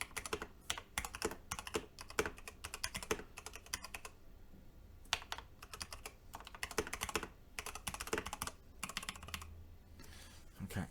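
Typing on a mechanical keyboard with electrostatic capacitive linear switches makes a steady, close, rapid patter of keystrokes, with a brief pause partway and no talk.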